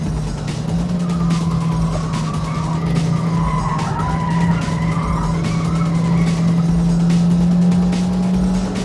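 Chevrolet Sonic with a 6-speed manual gearbox on a test drive, a steady loud engine drone with tire and road noise holding a constant hum throughout, no talking.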